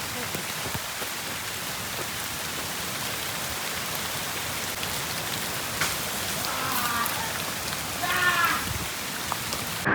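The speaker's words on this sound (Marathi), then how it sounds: "आता येताना पाऊस लागलाय" Steady heavy rain pouring near a waterfall in Tamhini Ghat, a dense even hiss filling the whole stretch, with a few faint chirps late on.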